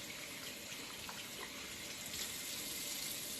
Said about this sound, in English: the fifth and final important step is to rinse and dry